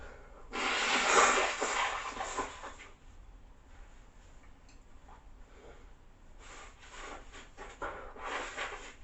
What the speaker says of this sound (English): about to blow my nose